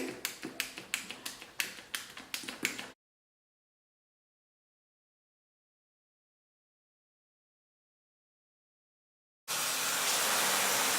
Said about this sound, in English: I'm going to put about 20 pumps of conditioner.